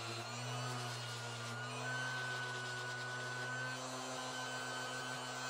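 Random orbital sander smoothing the wood of a scratch-built guitar, a steady close electric whir with a low motor hum and a rough rubbing hiss that runs unbroken throughout.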